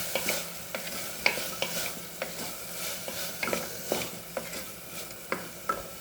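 Mint, coriander and curry leaves sautéing in a pan for coconut milk rice, with a soft sizzle under repeated light scrapes and taps of a spatula stirring at an uneven rhythm.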